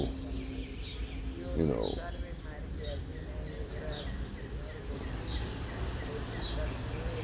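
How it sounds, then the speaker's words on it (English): Small birds chirp in short repeated bursts outdoors on a walk through the Bronx, with a dove-like coo and distant city hum beneath, while someone speaks briefly. "you can hear the birds"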